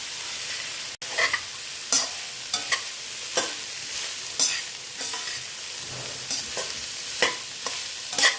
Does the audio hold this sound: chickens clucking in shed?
no